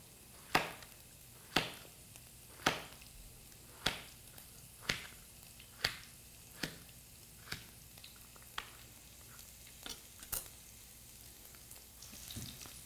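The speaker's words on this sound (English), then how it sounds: "You cut the squash into about 1-inch pieces." Knife chopping summer squash into one-inch pieces on a cutting board, about a dozen crisp, evenly spaced chops roughly one per second, close and clear over a faint sizzle of cooking in the background.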